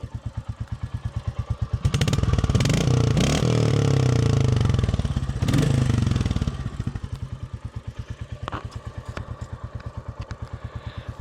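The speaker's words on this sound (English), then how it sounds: "Let's not disturb the neighbours when I'm revving my bike." A Royal Enfield Bullet 350 single-cylinder engine with a Hitchcock's decat pipe idles with a steady loud thumping beat, then revs up for several seconds and drops back to a lumpy idle, heard close by.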